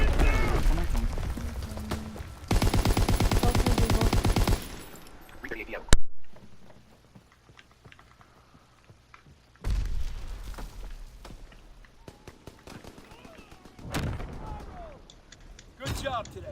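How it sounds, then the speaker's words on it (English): Artillery strike in a video game, very loud bursts of booming and crackling fire in several clusters separated by quieter gaps, with a sharp blast near the middle and game sounds throughout. "There's an artillery strike and it's very loud"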